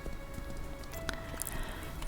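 Steady rain patters down in an arena in the game Ranch of Rivershine, a dense wash of drops with a few brighter splashes, continuous and fairly quiet.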